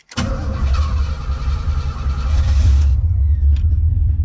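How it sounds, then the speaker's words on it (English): A classic Chevrolet Camaro cranks over from cold and fires up, settling into a loud, steady, deep idle rumble close by, with a brief high squeal near the end and no talking. "let's do a cold start on her"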